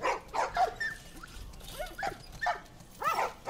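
Dogs barking, yipping and whimpering in The Last of Us Part 1 video game, in repeated close bursts with short pauses between them.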